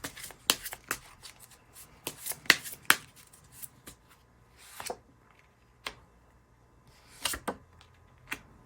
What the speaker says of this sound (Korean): 결정하셨으면 카드 뽑아볼게요.